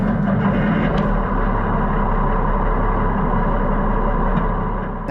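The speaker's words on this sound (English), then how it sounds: "we're headed to Illinois to check out a John Deere 4000 diesel" A 1972 John Deere 4000 diesel tractor with power shift, engine running at a steady low rumble, close and continuous with no talk.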